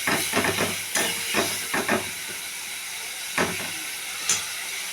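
Spices and asafoetida go into hot oil for a potato dum, giving bursts of hissing sizzle and spitting that swell and fade in short uneven pulses, close and moderately loud.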